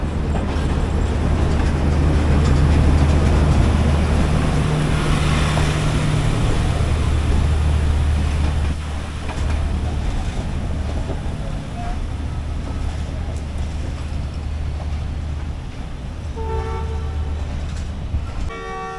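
The 9 Up Namak Express, led by a ZC20 locomotive, departs a station slowly with a loud, continuous low rumble of engine and rolling wagons. Brief tonal horn toots sound near the end.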